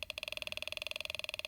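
A Snap Circuits Extreme SC-750 oscillator buzzing as fingers bridge exposed wires, a fast, evenly pulsing electronic drone resembling a revving engine, steady and fairly faint throughout.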